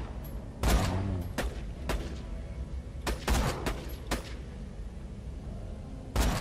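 Sniper rifle fire in the shooter video game Borderlands 2, several sharp, loud cracks spaced irregularly with short booming tails, the shots standing alone over a faint game background.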